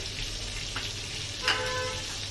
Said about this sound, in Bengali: এটার সঙ্গে চিকেনটাকে একটু ভালো করে নেড়ে চেড়ে নিতে হবে।